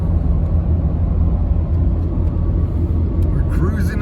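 A Ford Raptor pickup truck cruising along a road, heard as a loud, steady low drone of engine and road rumble that continues unbroken throughout.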